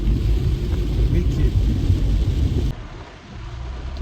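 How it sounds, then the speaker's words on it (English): Heavy rain pouring in Kenya, a loud continuous low rumbling roar that drops and softens partway through, with a faint voice underneath. "the rain is falling so hard"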